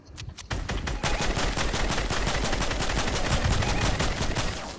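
Rapid automatic gunfire in Fortnite, a relentless stream of loud shots nearly filling the whole stretch after a brief quiet start, with no voices over it.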